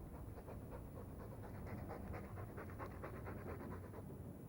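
A dog pants in Dragon Age 2, rapid rhythmic breaths repeating for several seconds, quiet but close, with no talking over it.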